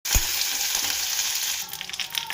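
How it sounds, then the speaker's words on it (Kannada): Mustard seeds, chana dal, curry leaves and dry chillies hitting hot oil in a pan, a loud, dense burst of sizzling that starts abruptly and then crackles and pops more unevenly as it settles, close by and without speech. "ಎಣ್ಣೆ ಕಾಯಿದ ಮೇಲೆ ಸ್ವಲ್ಪ ಸಾಸಿವೆ ಹಾಕ್ಕೊತೀನಿ, ಆಮೇಲೆ ಕಡಲೆಬೇಳೆ, ಈಗ ಕರಿಬೇವಿನ ಸೊಪ್ಪು ಮತ್ತು ಒಣಮೆಣಸಿನ"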